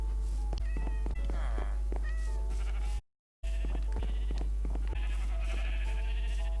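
Sheep bleating repeatedly in Minecraft on a crowded wool farm, several overlapping animal calls mixed with game sounds, with a brief dropout midway.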